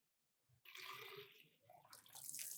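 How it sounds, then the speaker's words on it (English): Water poured from above into a plastic bottle fitted with a homemade straw turbine, a steady splashing, trickling stream that starts abruptly and continues close by, rising again near the end. "let us now see what happens when I pour water into the bottle"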